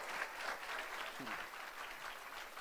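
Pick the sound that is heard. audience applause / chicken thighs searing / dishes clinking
audience applause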